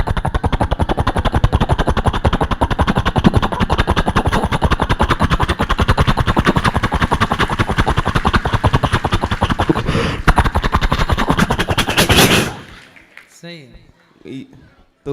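A boy imitates a helicopter with his voice, a loud, rapid chopping buzz held for about twelve seconds before it breaks off into quieter sounds.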